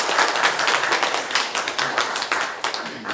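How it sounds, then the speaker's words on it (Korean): Church congregation at a Sunday worship service clapping in thanks, a steady patter of many hands at close range that carries on for the whole stretch, with a few sharper claps standing out. "옆에 계신 여신도를 보면서 우리 감사의 박수를 한번 하겠습니다."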